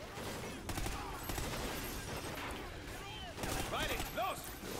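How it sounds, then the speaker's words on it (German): Dense gunfire from the video game Call of Duty Ghosts rattles continuously in bursts with explosive cracks, under an energetic player's voice talking throughout. "Wir stehen natürlich hier wieder mitten im Kugelhagel"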